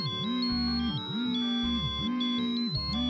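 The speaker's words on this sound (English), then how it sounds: "It was ringing with a joyful ringtone" A bright, cheerful phone ringtone from the game WILL: A Wonderful World plays alone in a looping melody, with repeating swooping notes roughly every second over sustained higher tones.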